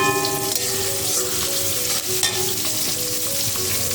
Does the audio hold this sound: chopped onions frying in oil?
yes